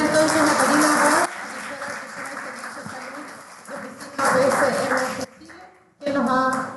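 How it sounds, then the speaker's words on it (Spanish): Applause from a conference audience at a summer school's inaugural lecture comes in bursts, loud at the start and again near the end, with stretches of quieter clapping and talk between them. "Aplaudimos entonces a Karina Abad"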